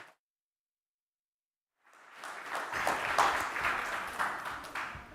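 After near silence, audience applause welcoming a speaker onto a stage swells in and holds as a loud, dense wash of clapping from many hands.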